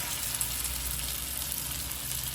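Oil sizzling steadily on a hot dosa tawa, a dense, even hiss close by with no talk over it.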